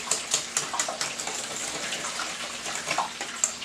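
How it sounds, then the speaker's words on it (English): Garlic butter hot sauce for hot wings being whisked in a bowl, a rapid, even series of close wet clicks and swishes from the whisk against the bowl. "I'm going to whisk this all together"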